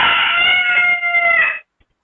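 A loud rooster crows in one long sustained call lasting over a second and a half, close and clear, then cuts off into silence.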